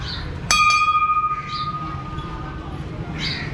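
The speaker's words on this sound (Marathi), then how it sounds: "तिथेही खूप मोठी एक घंटा लावली आहे" A single strike of a large temple bell at a Hanuman temple in Anjangaon Surji rings out and its bright tone slowly dies away over a murmuring background.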